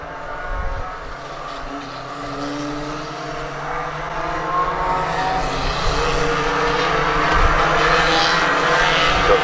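Race cars at Swaffham Raceway roar along the back straight in the closing laps, a steady dense engine drone that swells slightly louder toward the end, with no voices over it.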